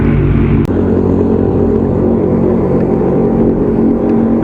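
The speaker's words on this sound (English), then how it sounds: "Tractor." A tractor passes on a road beside a canal near Groningen, its loud, steady engine rumble dominating alongside strong wind and road noise, as if heard from a passing bicycle.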